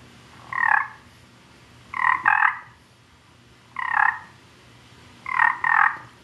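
A Tom Teaser turkey call gives short raspy yelps in a broken pattern: one note, then a quick double, then a single, then another double, close and clear over a quiet background.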